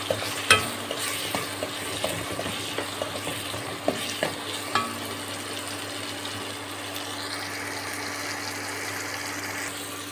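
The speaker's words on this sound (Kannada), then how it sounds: "ಚಿಲ್ಲಿ ಪೌಡ್ರ್ ಇದರೊಳಗೆ ಮಿಕ್ಸ್ ಮಾಡಿ ಈ ಥರ ಚೆನ್ನಾಗಿ ಮಿಕ್ಸ್ ಮಾಡ್ಕೊಳ್ಳೋಣ" Chilli powder stirred into a sizzling mixture in a frying pan, a steady close sizzle with a few sharp scraping and tapping strokes of the spoon early on, then a smoother hiss.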